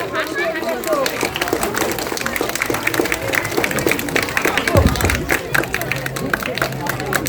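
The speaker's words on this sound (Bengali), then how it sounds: "সবাই একটু জোরে হাততালি দিন" Audience applause at an annual dance academy performance, a steady wash of clapping mixed with crowd babble throughout, with a low thud midway and some voices under the clapping.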